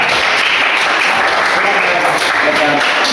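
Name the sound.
class applauding, clapping hands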